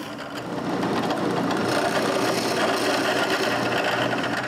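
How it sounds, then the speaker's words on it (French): A power drill boring two holes into a wooden nutcracker figure, a steady continuous whirring hum with rasping texture that holds at an even level throughout, with no talking. "Je commence par percer les 2 trous."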